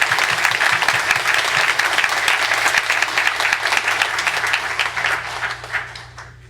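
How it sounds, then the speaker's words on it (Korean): A church congregation gives sustained, dense applause during a worship service, loud and steady before tapering off toward the end. "다시 한번 큰 박수 부탁드리겠습니다."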